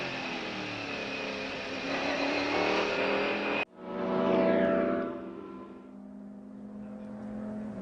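Onboard engine roar from the Mercedes CLR race car at the 1999 Le Mans 24 Hours, a loud sustained drone that cuts abruptly, then swells and fades like a car rushing past before settling into a steady hum.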